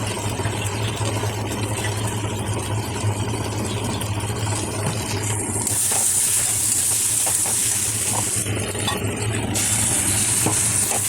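Onion, ginger and cumin paste with spice masala for aloo dum is stirred and fried in a pan, with a steady loud sizzle and hiss running throughout, brightening midway, with no talk.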